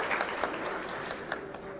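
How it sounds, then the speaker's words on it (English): Audience applause welcoming a minister at an India–Europe business round table, a fairly soft, even patter of many hands clapping, heard from a distance without speech. "A big round of applause and thank you for making all the way from Armenia."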